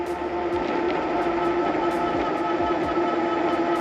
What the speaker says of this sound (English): I'm gonna come up on a small hill so you can hear the motor kick in.